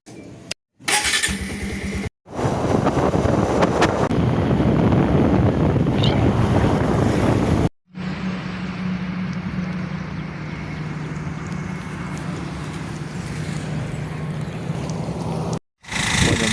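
A motorbike on a Chennai to Tirupati road trip cruises along with loud, steady wind buffeting the microphone and a low engine drone, broken by a few brief dropouts.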